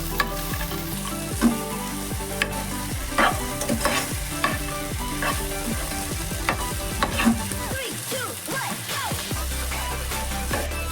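Sliced okra for a Telugu-style bhindi fry hisses steadily in a hot pan, with repeated scraping stirs and soft clatters of the spatula close by, the sizzle briefly dipping near the end before resuming.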